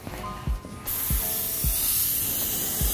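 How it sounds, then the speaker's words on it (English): A few mechanical clicks, then a loud continuous hiss of a spray gun blasting yellow paint, steady and close. "we are ready to spray a little bit of that yellow."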